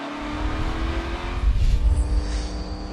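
Onboard with Sam Hornish Jr. in an XFINITY Series race at Iowa, a stock car engine roars steadily and loud as the car runs, its pitch shifting slightly, with a brief surge of noise midway.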